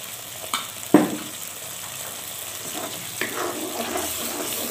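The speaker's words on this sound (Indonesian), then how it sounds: "Kita gongso hingga benar-benar keluar aromanya, dan tidak lupa juga ini serainya kita masukkan pula." Spices and lemongrass stir-fried in cooking oil for a yellow-spiced gourami dish give a steady close sizzle, with a few sharp clatters of stirring near the start and again later.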